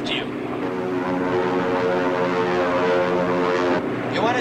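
A fighter plane engine drones steadily in flight, a loud, close, harmonic roar that holds throughout and dips briefly near the end, while a voice speaks over it.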